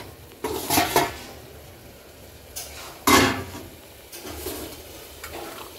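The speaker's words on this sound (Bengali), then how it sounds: "এবার দিয়ে দেবো মটনটা" Mutton drops into a frying spice and tomato paste in a pan for a Bengali mutton curry, with scraping stirs and clattering spoon bursts over a low sizzle, close and in several separate strokes.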